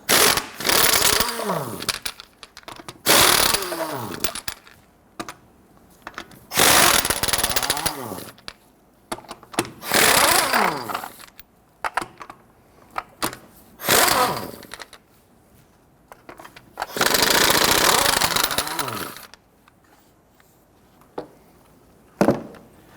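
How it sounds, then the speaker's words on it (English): A power impact wrench with a 21mm socket loosens lug nuts on a Nissan Frontier wheel, sounding in a string of loud, rattling bursts of a few seconds each, separated by short quiet gaps. "Using a 21mm socket, go ahead, loosen and remove your lug nuts."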